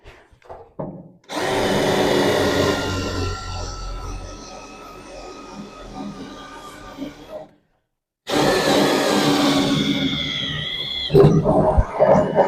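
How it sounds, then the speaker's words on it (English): A power drill bores through a metal bracket on a rat rod truck, whining loudly for about six seconds, pausing briefly, then grinding again through a second long burst with some clicks near the end. "I'm gonna go ahead and drill the center of the bracket so that I can put a bolt in there"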